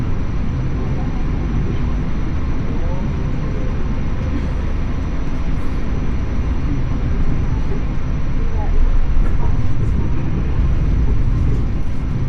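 The KA Lodaya passenger train rumbles loudly past a railway crossing, a steady heavy roar of wheels and cars that swells slightly toward the end.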